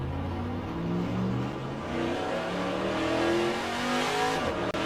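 A VK Commodore Group C touring car mod in rFactor2 at Bathurst, its engine droning and revving steadily through gear changes with brief tyre squeal, loud and continuous throughout.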